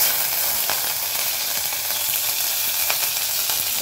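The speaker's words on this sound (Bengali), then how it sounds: "তার আগে কড়াতে আমি দিয়ে দিলাম কটা কাঁচা লঙ্কা কুচুনো" Chopped green chillies sizzle in hot oil in a kadai, a steady close hiss of frying with faint crackles throughout.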